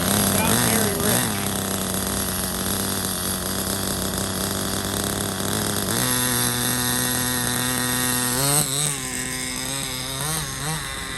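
A loud, close two-stroke nitro engine on a Compagnucci RC car screams with a harsh, buzzy tone. It holds a steady high rev, then jumps higher and wavers through several sharp throttle swings, with faint talk beneath.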